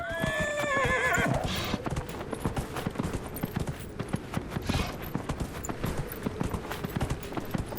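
A horse whinnies loudly at the start in the video game Dragon Age: Inquisition, then hooves clip-clop in a fast, steady galloping rhythm that carries on to the end.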